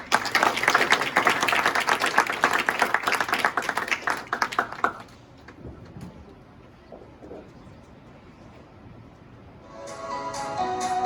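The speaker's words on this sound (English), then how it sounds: "So let's give Michael a round of applause." An audience at a martial arts school event applauds for Michael, a brisk round of clapping that fades out after about five seconds, leaving quiet room noise before music rises at the end.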